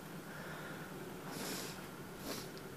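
Two quick wet sniffs, close up, with a runny nose, against low background hiss.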